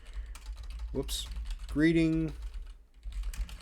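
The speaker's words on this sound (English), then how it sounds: "I'm typing around the microphone." Rapid clicking keystrokes on a computer keyboard fill the scene while a person works in Affinity Publisher 2, close to the microphone, with a voice speaking briefly in the middle.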